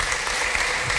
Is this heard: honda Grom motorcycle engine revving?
no